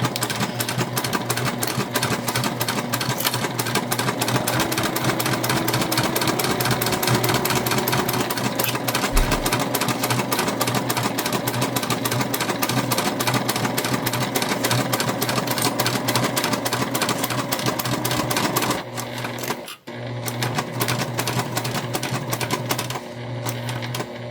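A Juki TL2 sewing machine runs steadily, stitching the seams of a drawstring backpack with a fast, continuous mechanical hum, close up and loud, broken by a brief pause near the end.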